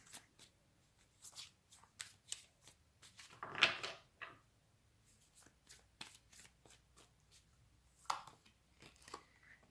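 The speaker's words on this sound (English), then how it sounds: "let me just shuffle and see more messages" Cards are shuffled in several crisp riffling bursts with light taps and flicks between them, close and quiet, with no talking.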